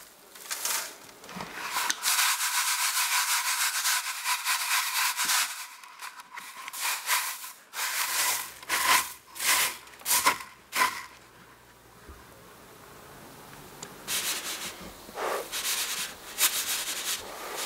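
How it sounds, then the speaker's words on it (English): Spinach seeds rubbed by hand through a fine sieve to separate out dust, a close, coarse scraping hiss that swells and fades in repeated strokes, with brief quieter pauses between bursts. "Then use a finer sieve that will retain the seeds and get rid of the dust."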